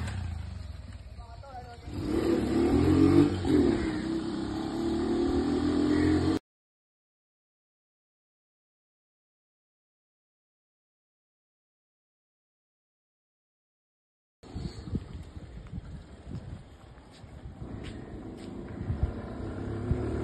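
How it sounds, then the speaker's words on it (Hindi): Motorbike engine running with its air filter removed, a steady rough idle with a swell around three seconds, cut to silence midway, then resuming with irregular knocking and rumble close to the microphone. "तो भाई, हम स्टार्ट कर रहे हैं बाइक हमारी,"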